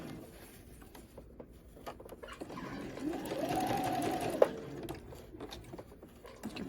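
A sewing machine edge stitches along fabric close to the seam line for a breast form, a steady continuous whirring run that swells through the middle, close and alone with no talk.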